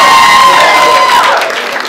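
Audience applause with some cheering from a crowd at a college show, loud and dense at first and fading slightly near the end.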